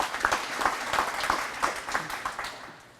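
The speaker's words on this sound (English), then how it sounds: "Let's give her another round of applause." A school event audience at Morrow High School claps steadily for a few seconds, the applause gradually tapering off.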